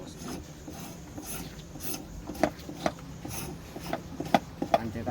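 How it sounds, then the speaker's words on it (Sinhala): Outer bark being scraped off cinnamon branches by hand gives a rough, rasping rub in irregular close strokes with occasional sharper scrapes, fairly quiet and free of speech. "ඉස්සෙල්ලාම කරන්නේ අපි මේ උඩ පොත්ත ක්ලීන් කරගන්නවා"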